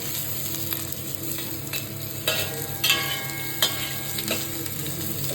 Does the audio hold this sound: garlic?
yes